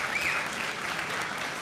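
Brief applause from an audience at a Manchester music venues event, a steady wash of many hands clapping at moderate volume.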